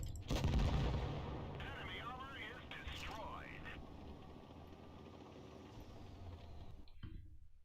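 A tank cannon fires a heavy shell in a World of Tanks match, with a deep boom at the start that fades into rumbling battle ambience while a commentator talks throughout.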